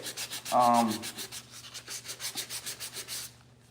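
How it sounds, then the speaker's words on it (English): Rhythmic back-and-forth block sanding rasps against the body panel of a 1968 C10 truck, about a dozen steady strokes close up, with a brief tonal squeak near the start. "So I'm just doing a little bit of sanding"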